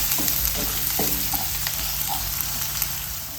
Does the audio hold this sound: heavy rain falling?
no